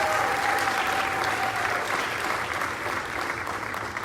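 Audience applause for the mothers at a Cholla High School summer concert in May 2023, a steady full-room clapping that holds at an even level throughout and trails off only slightly at the end, with no voices standing out.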